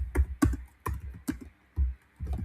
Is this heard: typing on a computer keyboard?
yes